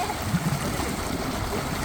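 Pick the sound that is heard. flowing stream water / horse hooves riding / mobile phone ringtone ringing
flowing stream water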